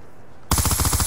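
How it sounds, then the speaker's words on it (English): An LSAT light machine gun in Black Ops 2 opens up after a brief quiet moment, a loud, close, rhythmic stream of rapid shots running to the end. "Listen to this scary gun as it rips this guy who was just shooting at me in half"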